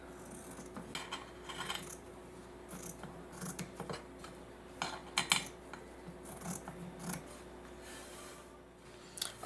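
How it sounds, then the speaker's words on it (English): Scissors snip through cloth for a puchara, a roti-oiling utensil, in quiet, irregular close cuts and rustles, faint overall with no talk. "now what we have to do is create the cuts in the cloth itself"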